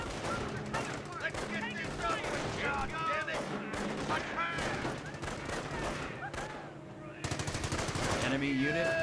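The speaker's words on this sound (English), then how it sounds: "Let's get my MG to fire on these guys." Sustained machine gun fire from an MG nest in Company of Heroes, rapid bursts rattling continuously over distant battle noise and whistling shells, with a louder burst near the end.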